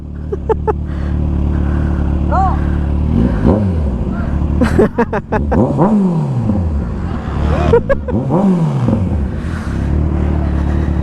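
A Kawasaki Ninja 1000SX motorcycle at a gas station, its engine revved hard several times, each burst climbing sharply in pitch and then falling back to idle. Loud and close, with a steady idle running between the revs.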